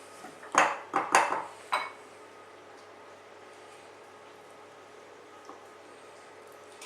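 A spatula clatters and scrapes against a bowl while Camp Coffee pudding is cleared out, a cluster of close, sharp knocks and scrapes in the first two seconds, then near quiet.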